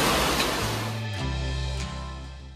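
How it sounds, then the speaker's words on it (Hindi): Heavy rain pours steadily as a loud, dense hiss, with deep rolling thunder rumbling underneath throughout. "इतनी तेज़ बिजली कड़क रही थी, ज़ोर से बारिश हो रही थी"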